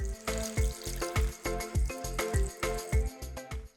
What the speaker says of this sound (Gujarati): તેને પણ આપણે ગરમ પાણીમાં પલાળી રાખીશું